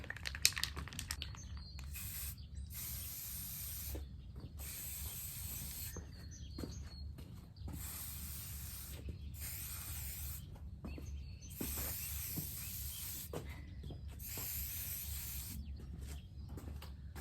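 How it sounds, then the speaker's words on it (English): Repeated bursts of aerosol spray paint hissing, roughly a dozen short sprays with brief pauses between, close and fairly loud over a low background hum. "let's play with spray paint"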